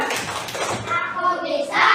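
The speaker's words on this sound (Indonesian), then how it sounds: "Kita tepuk semangat dulu ya. Tepuk semangat." Young schoolchildren in a classroom clap a rhythmic class chant together with their teacher, quick clustered claps mixed with children's chanting voices, close and loud.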